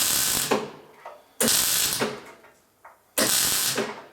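Tack welding on the edge of a replacement Classic Mini boot skin, giving three loud, sharp bursts about 1.5 seconds apart, each with a crackling attack that fades quickly, with no talk.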